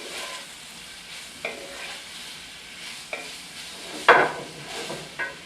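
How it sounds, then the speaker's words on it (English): Food browns in a hot pan for Chicago deep dish pizza, a soft steady sizzle with several sharp scraping tosses at uneven intervals, the loudest near the end. "These are starting to brown a little bit. So I'm just tossing this around."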